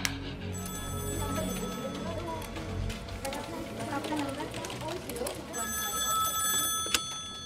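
A telephone rings with a steady repeating electronic tone, partly buried under a busy background of voices and movement.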